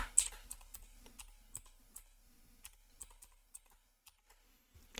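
Password typed on a computer keyboard: a fairly close, quiet run of separate key clicks with uneven rhythm, some strokes louder than others, and brief pauses between them. No one speaks.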